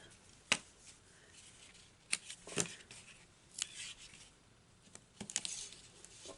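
Quiet, scattered snips of scissors cutting paper, a few sharp clicks spaced irregularly against soft rustling, with no voices.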